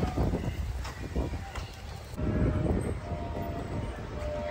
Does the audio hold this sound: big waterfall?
no